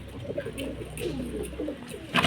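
A male domestic pigeon coos in soft, rolling low notes, repeating over a steady background hum, with a sharp rustle at the very end.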